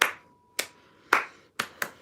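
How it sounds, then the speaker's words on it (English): Five sharp hand claps ring out in an uneven rhythm, close and loud against near silence, each one crisp and quickly decaying. "round of applause"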